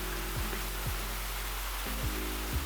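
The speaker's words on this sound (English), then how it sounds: "There's the waterfall for you." Water from a waterfall feature pours into a black marble hot tub in a luxury mountain home, a soft, steady rushing hiss with a low hum beneath, fairly faint and unbroken.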